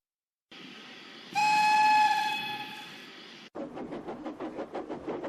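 Harry the Hunslet locomotive arrives on the rails: a loud, sustained steam whistle rings out, then gives way to a steady, rhythmic chuffing as the engine draws near.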